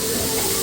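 Water poured into a hot pan of fried onions for an oil-free Bangla curry makes a steady, close hiss of steam that holds through the moment.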